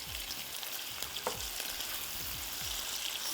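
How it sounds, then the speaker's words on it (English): Onions sautéing in a pan for mujaddara, a steady dense sizzle with repeated soft scraping strokes from stirring, close by, with no voices. "So our onion is almost turning brown. We'll let them saute for a minute or so."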